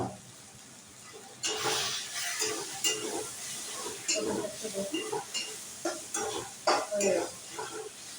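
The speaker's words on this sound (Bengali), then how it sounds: "কড়াইটা গরম হয়ে গেছে, এতে একটু তেল দিয়ে দেবো।" Oil hits a hot wok with a sudden sizzle, then crackles and spits steadily at close range, with intermittent scraping and a hint of voice underneath.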